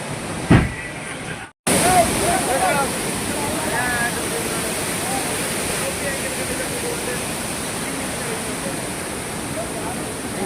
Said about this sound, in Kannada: ಸ್ವಲ್ಪ ಮೇಲಿಂದ ನೀರು ಬೀಳ್ತಾ ಇದೆ